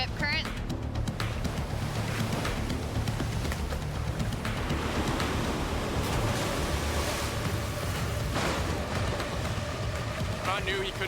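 Ocean waves and surf at a beach with a rip current, a continuous loud wash of breaking water mixed with wind buffeting, with faint voices now and then.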